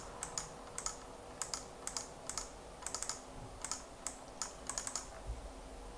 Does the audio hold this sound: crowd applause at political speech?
no